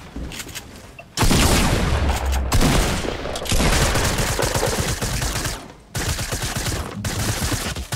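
Heavy bursts of automatic gunfire in the Fortnite video game, loud and near, firing in long rapid volleys with brief pauses between them.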